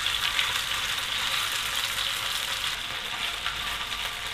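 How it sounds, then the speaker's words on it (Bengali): Beef pieces brown over medium-low heat in a pan for Chinese chow mein, a continuous, even sizzle with no talk. "বিফগুলোকে একটু ব্রাউন করে ভেজে নিলাম।"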